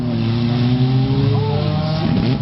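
Turbocharged Mazda RX-7 FD rotary engine revving hard, a loud, buzzing, sustained wail with a quick pitch dip and recovery, heard up close with no talking.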